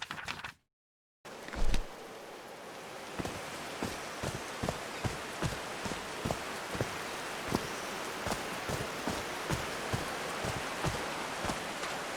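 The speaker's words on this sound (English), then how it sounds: "These drops of rain are so refreshing." Rain falls steadily in the video game Call of the Sea, a constant hiss with regular soft drop taps, after a brief silent gap at the start.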